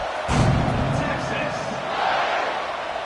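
A football stadium crowd roars at kickoff in an LSU game, a broad swell of cheering that surges early and stays loud beneath a commentator's voice.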